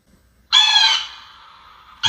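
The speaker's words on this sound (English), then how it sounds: "There's the hawk." Electronic pest repeller plays a recorded hawk call: one loud, harsh, raspy screech that fades into a thinner drawn-out tail, then another call starts at the very end.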